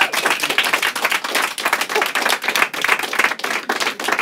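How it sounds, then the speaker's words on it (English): Applause from a live comedy show audience, lively clapping with distinct individual hand claps in a fluctuating, rhythmic texture that stays fairly close and full throughout. "Round of applause."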